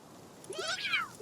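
A cat-type creature in the survival game Palworld gives a single clear, rising-and-falling meow, close and fairly loud, with no talking over it.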